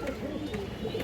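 Pigeons kept as a breeding pair coo softly and continuously, a low burbling murmur that fills the short stretch without other sounds standing out.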